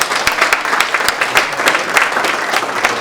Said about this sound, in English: And if you could give him a round of applause.